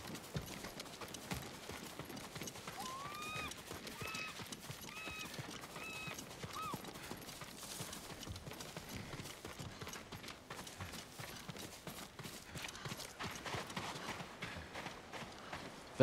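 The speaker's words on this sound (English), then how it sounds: "We'll leave the horses to avoid being seen." Horse hooves clip-clop steadily at a walk through the Ghost of Tsushima video game on PS5, a continuous moderate rhythm set against outdoor ambience.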